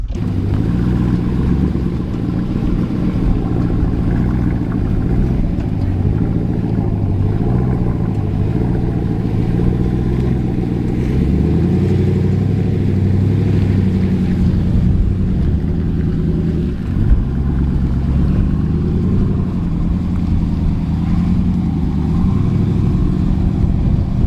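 Jeep Wrangler 392 AEV crawling over an off-road obstacle, a low steady V8 rumble with slight throttle swells, close and continuous, no talk.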